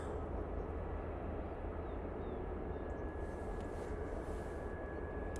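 An airliner taxis out at Manchester Airport, its engines giving a steady, continuous rumble from some distance for the whole stretch, with no voices.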